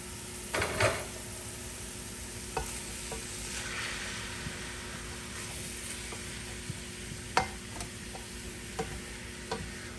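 Ground beef with mirepoix vegetables frying in a pan, giving a steady soft sizzle with scattered clicks and a few stirring scrapes, close and moderately quiet.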